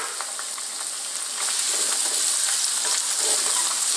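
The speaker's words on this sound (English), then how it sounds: "We're going to drop in some more garlic and ginger." Garlic and ginger sizzling in hot oil in a pan over high heat: a steady, bright frying hiss that grows louder partway through, with light crackles and stirring scrapes.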